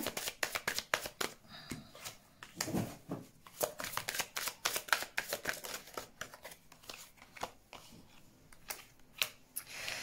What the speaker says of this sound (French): Je vais mettre des cartes sur ce commencement.